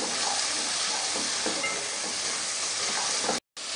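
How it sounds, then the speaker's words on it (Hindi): Onions frying over a full flame for a pizza topping, a loud, steady broadband sizzle that fills the clip and cuts off abruptly near the end, with no talking. "प्याज को भी हमने ज़्यादा नहीं पकाना, फ्लेम आपने फुल रखना है।"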